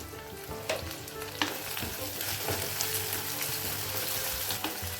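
Chopped onions frying and sizzling in a pan, with dense crackling and light stirring as curry leaves and a pinch of black pepper go in; steady close sizzle throughout, with no talking.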